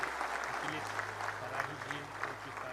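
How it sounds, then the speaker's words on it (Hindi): Applause from a political gathering audience for a village head from Barabanki, steady and fairly dense through the short stretch, with a low hum underneath and some voices mixed in. "जोरदार तालियां।"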